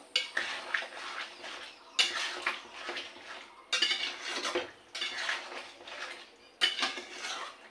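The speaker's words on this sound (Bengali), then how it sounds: "এবারে ভালো সুন্দর করে একটু নাড়াচাড়া দিয়ে দেবো" A spoon scrapes and clatters against a metal pan while a curry with coriander powder is stirred, coming in five or six distinct rhythmic bursts of scraping separated by short pauses, close and fairly quiet.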